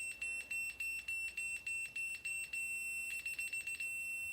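A rapid series of high, thin electronic beeps from a ZOKOUN laser level in uneven bursts, faint against a steady hiss, with no voices.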